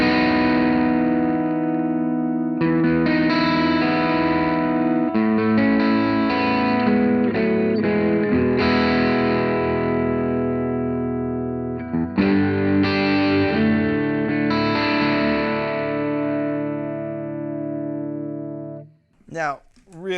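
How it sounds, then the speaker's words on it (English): Electric guitar through a Kinsmen Ethos overdrive pedal plays sustained, rich chords and notes continuously, ringing out before fading near the end. "really rich overdrive sound"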